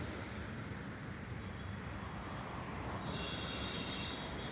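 Road traffic hums behind the recording spot outdoors, a quiet, continuous low rumble with a faint high tone entering partway through, heard alone with no talking.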